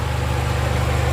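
A 1991 Toyota Starlet XL engine idling smoothly with a steady, even low rumble and fast regular pulsing, close and alone with no talk.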